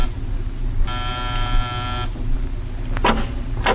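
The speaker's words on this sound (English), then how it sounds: "Pause and press a buzzer." A steady electric buzzer sounds for about a second over a low background hum, followed by a brief clunk.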